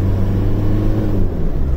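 Low, rough engine drone of a Mitsubishi Montero off-roader on the road, a loud, steady tractor-like rumble with no talk over it.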